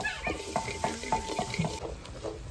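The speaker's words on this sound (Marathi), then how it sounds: "आणि आपण आता पूर्ण सारखं चमच्याने हलवत राहायचे, म्हणजे आपली साखर खाली लागणार नाहीये।" A spoon stirs sugar syrup in a pan over a wood-fired village stove, with rhythmic scraping strokes repeating about every third of a second close up, over a faint bubbling simmer.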